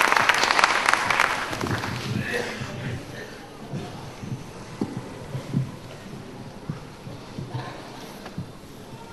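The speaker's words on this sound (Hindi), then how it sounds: "जोरदार तालियों से आप उनका स्वागत करें" An audience at a ladies' club event applauds to welcome Dr. Seeta Sagar, with a burst of dense clapping at the start that thins out into scattered claps and a murmur under a voice.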